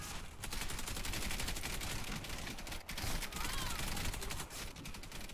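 Dense, loud gunfire from a Stechkin APS pistol in the shooter Warface, a continuous barrage of cracks with a couple of short gaps and game noise layered throughout.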